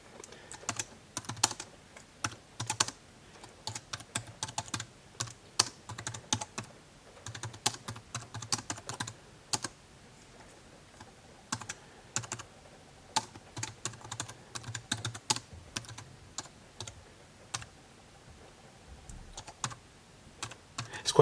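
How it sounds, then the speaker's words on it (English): Irregular bursts of light clicky keystrokes on a Rii wireless Bluetooth multimedia keyboard, quiet and close, with short pauses between runs of typing. "if I just type something"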